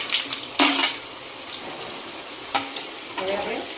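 Curry leaves, sesame seeds and chopped green chili drop into hot oil, bursting into sharp sizzling spurts between quieter frying hiss, with occasional clinks of a utensil on the pan.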